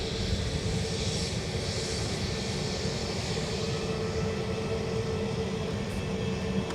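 A Ryanair jet at Dublin Airport, bound for London Luton, gives a steady, continuous engine roar heard from a distance, even in level and broad in tone, with no speech.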